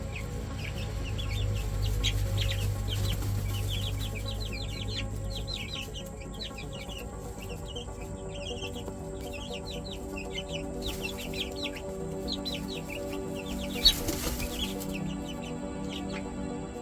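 Young chicks in a newly built coop give a busy chorus of soft peeps and clucks, steady and close throughout, with a brief louder bump near the end and no talk.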